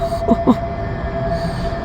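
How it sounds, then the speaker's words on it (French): Two Alstom trams pull away one after the other toward Chalezeule, giving a loud, steady motor whine with two short rising squeals near the start. "Les deux tramways du Saint-Wagon qui partent l'une derrière l'autre"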